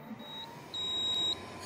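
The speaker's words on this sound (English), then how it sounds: "this printer is that it keeps on beeping" AnyCubic Photon resin 3D printer giving off thin, high electronic beeps, one short tone followed by a longer sustained one over quiet background hum.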